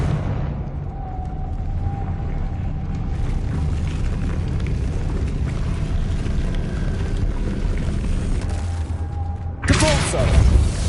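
A Confringo fire-spell explosion in Hogwarts Legacy: a sudden loud burst near the end, cutting through a continuous low rumble of background game noise.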